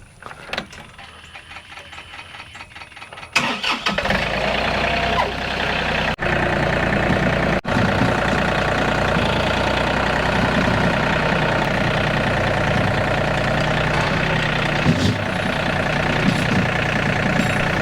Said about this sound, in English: We're gonna get the old tractor fired up and go get this plow pulled out.